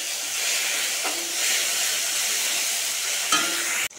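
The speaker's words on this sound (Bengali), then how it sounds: "তেলটা একটু ভাজা করে নিচ্ছি, পেঁয়াজ দিয়ে লঙ্কা দিয়ে ভাজা করবো।" Onion and green chilli sizzling in hot oil in a pan, a continuous bright frying crackle with occasional stirring scrapes, ending in a sharp knock.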